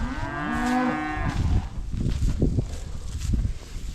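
Cattle on a drive to fresh grass let out a long, loud, nearby moo, followed by rustling, shuffling movement and lower grunts from the herd.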